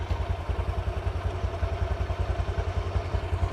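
A Honda Vario 125 scooter engine runs close by with a steady, fast low throb and a light mechanical clatter. It holds an even pulse throughout, with no voices over it.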